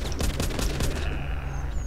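Rapid bursts of gunfire from a zombie shooter video game, several sharp shots fired in quick succession, fairly close and loud, then fading into a quieter tail.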